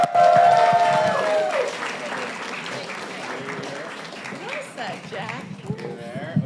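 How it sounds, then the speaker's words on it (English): Audience applause at a panel talk on personal branding as panel members walk up to the stage, loud at first and slowly thinning, with a voice talking over it. "Let's give a round of applause for them coming on up."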